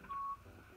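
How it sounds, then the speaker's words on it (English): A short electronic beep tone from a phone, about a quarter second long, sounding once over quiet room noise. "It just said beep boop. But that's my phone."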